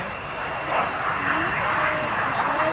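A Saab Gripen fighter jet roars at an airshow, a broad, steady rumble and whine at moderate distance, with a commentator speaking faintly beneath it.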